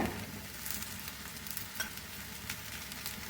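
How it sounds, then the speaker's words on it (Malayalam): Softened jackfruit cooks in a pan as grated jaggery goes in, giving a steady close sizzle with light scraping and stirring noises throughout, no voices. "ഇനി നമുക്കിതിലേക്ക് ശർക്കര ചേർത്ത് കൊടുക്കാം"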